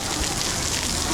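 Steady, dense rain patters and hisses outdoors during a closing ceremony, a constant wash of droplets with no talk.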